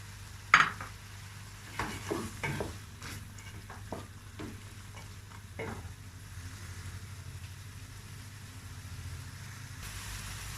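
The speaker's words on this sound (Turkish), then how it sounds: "Şöyle taze fasulyeyi domatesle birlikte kavuracağım." Green beans and tomatoes sizzle steadily in a pan while a utensil scrapes and stirs now and then, with a low hum underneath.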